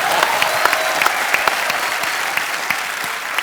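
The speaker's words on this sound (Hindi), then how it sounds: "जोरदार" Loud, sustained applause from a studio audience at a comedy show, many hands clapping densely and evenly from start to finish.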